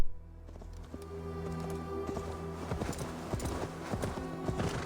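Hooves of a horse in Assassin's Creed Valhalla clip-clop in a steady, close rhythm over a low ambient game backdrop, with no talking.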